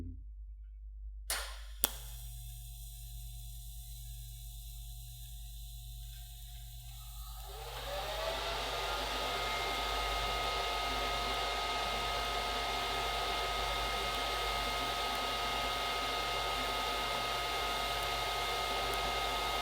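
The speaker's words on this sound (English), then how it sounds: "every time we move about an 1/8 inch, we want to dip in with our filler metal" A steady TIG welding arc hisses and buzzes at an even level after a short quiet start with a few clicks, as filler metal is dipped into the puddle at a regular pace.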